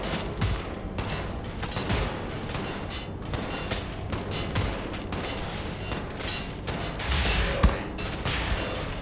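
Weapon fire in Wolfenstein: The New Order, sustained rapid bursts of gunshots rattling almost continuously for several seconds amid smoky combat, with one heavier hit near the end.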